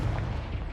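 A Confringo spell blast in the Hogwarts Legacy video game, a dense booming explosion rumbling loudly and continuously through the whole short moment with no voices over it.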